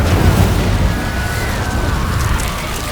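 Incendio fire spell cast in Hogwarts Legacy, a sustained rushing, roaring burst of flame that stays loud and dense for a few seconds, with a faint rising whine through it.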